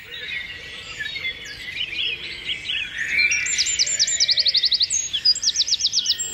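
Several birds sing together in a dawn chorus, mixing varied chirps and tweets over a soft ambient hiss, with one near bird adding rapid repeated trills toward the end.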